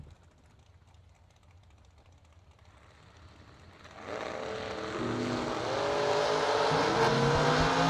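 Camaro race car at a drag race, quiet at first, then a distant engine roar swells sharply and keeps building as the car accelerates away, loud and sustained.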